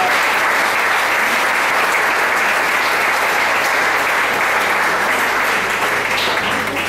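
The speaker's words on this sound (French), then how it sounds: "Et nous applaudissons pour cela, mes frères et sœurs." A church congregation breaks into steady, sustained applause, dense and loud throughout, many hands clapping together indoors.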